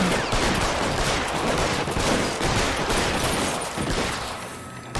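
A gunfire shootout in the video game L.A. Noire: dense, continuous rapid shots and bursts of automatic fire blend into a loud, unbroken barrage with no talking over it.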